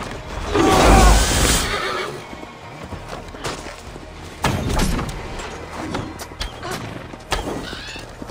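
A horse in the Assassin's Creed Valhalla video game whinnies loudly once, followed by hoof clip-clops, footsteps and scattered action sounds at mid distance.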